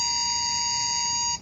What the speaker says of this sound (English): it's going to alert us there. You hear the beep